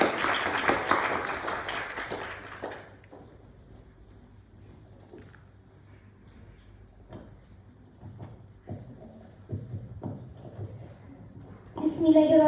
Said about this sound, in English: let's give a round of applause and welcome our speakers